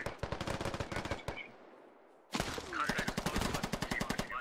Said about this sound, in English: Koopa taking shots from Roman Orc